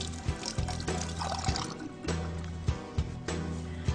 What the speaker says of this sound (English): I rinse my fingers off a little bit